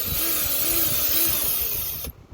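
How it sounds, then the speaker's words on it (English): Power screwdriver backing screws out of a motorcycle fuel tank, a steady close whirring drone with a faint motor whine that runs for about two seconds and then stops abruptly. "So we have the 2 screws removed from the fuel tank."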